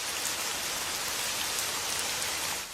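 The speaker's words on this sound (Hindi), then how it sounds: "ये बिना मौसम की गुजरती हुई बारिश हमें क्या संकेत देती है?" Steady rain shower in a Hindi cartoon, an even, continuous hiss of falling drops throughout with no talk.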